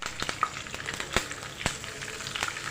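Curry leaves fry in hot oil for a Kerala snack mixture, giving a short, close crackling sizzle dotted with sharp pops.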